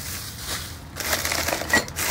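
Paper is crumpled and crushed by hand while sorting through curbside trash, a close crackling rustle that grows louder and busier in the second half.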